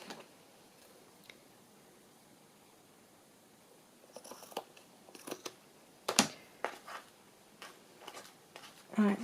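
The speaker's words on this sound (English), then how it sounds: "Trim the back off this as well." Paper being trimmed for a file folder folio, quiet snips and rustles scattered through a near-silent stretch, growing busier and louder toward the end.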